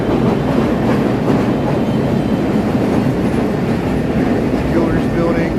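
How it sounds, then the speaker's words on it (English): A Chicago L Brown Line train rolls along the elevated Wabash tracks in the Loop, making a loud, steady rumble with rattling wheels that lasts the whole stretch. "That's a brown line heading up to Kimball here on the Wabash elevated train tracks here."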